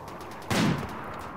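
A single sharp gunshot fires in the Rimworld video game, a loud close crack with a brief thudding tail against a low steady background hum.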